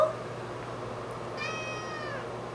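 A single meow from an orange tabby cat, rising and falling in pitch, sounds faintly over a steady low background hum.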